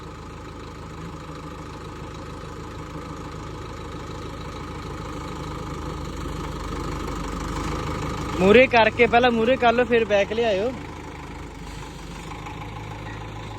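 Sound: tractor engine idling

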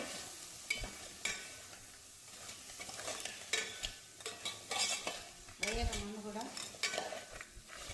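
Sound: stirring spicy crab fry with turmeric in a pan

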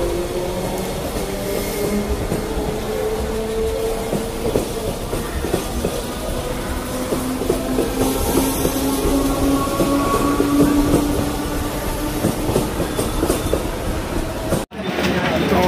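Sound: Mumbai local train

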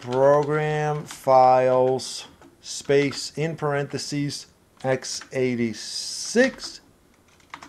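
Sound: typing on a computer keyboard

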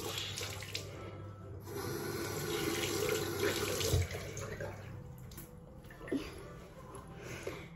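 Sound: water running to wet a makeup sponge

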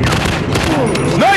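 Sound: gunfire in a zombie shooting video game

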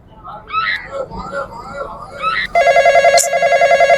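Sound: phone ringing with incoming call

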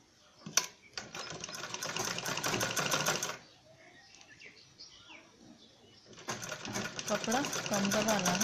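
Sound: sewing machine stitching a fur cloth bag

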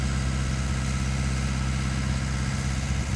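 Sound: Barbco 824 CBM boring rig engine started and throttled up

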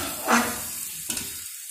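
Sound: bottle gourd (lauki) frying and stirring in pan

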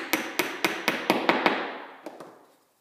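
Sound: tapping a dovetail key into a picture frame joint

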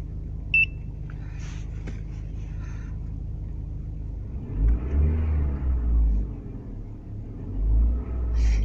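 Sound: car engine revving under load

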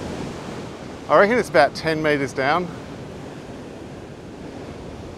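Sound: ocean water surging through Mangan blowhole

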